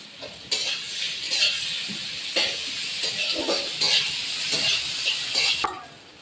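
Onions with salt, turmeric and ginger-garlic paste fry in oil, sizzling close up while a spoon scrapes and stirs through the pan in repeated strokes.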